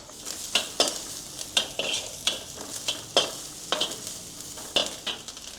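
Dried shrimp and shallots being stir-fried in a pan, soft continuous sizzle punctuated by about a dozen sharp scraping clicks of a utensil against the pan in an irregular rhythm.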